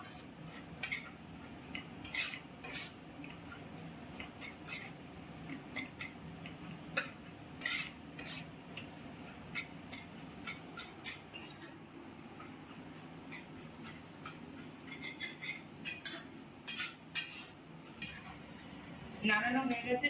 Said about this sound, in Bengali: নাড়ানো হয়ে গেছে সুজিটা